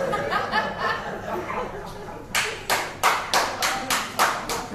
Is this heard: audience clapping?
yes